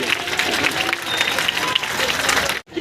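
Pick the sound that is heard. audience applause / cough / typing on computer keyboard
audience applause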